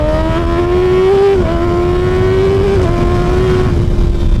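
A Kawasaki Ninja ZX6R 636 sport motorcycle engine pulls hard on a highway, a loud steady high-pitched wail that rises, dips briefly at each gear change, then climbs again, close and continuous with no talking.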